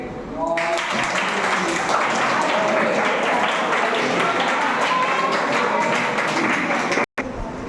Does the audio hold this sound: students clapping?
yes